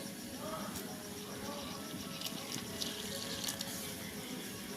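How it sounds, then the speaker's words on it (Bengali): Water trickles into dough for cauliflower paratha, a faint wet splashing and squelching of the mix being worked by hand. "এবারে আমি এর মধ্যে জল দিয়ে দিচ্ছি।"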